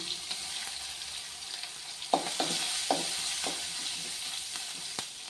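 Ginger and onion sauté over a medium flame, a soft continuous sizzle broken by a handful of brisk spatula scrapes and taps against the pan, close and clear with no talking.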